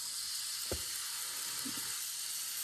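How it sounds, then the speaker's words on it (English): Pork tenderloin searing in a very hot frying pan, a steady broadband sizzle with one brief sharper crackle and a faint clink, no talking. "Just let it sear for about 3 or 4 minutes on a real hot pan"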